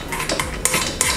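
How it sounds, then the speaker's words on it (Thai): A spoon scrapes and taps against a rice cooker pot while leftover rice is spread out inside for reheating, with close, repeated scraping strokes and sharp clinks. "ให้เราเอาข้าวที่เราจะอุ่นใส่ไ ปในหม้อเลยนะครับ เกลี่ยให้มันแบบ"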